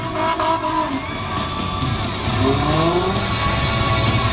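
Drag race cars sit on the line at a standing start with brake and gas on, engines roaring and revving loudly and continuously, the pitch climbing toward the end.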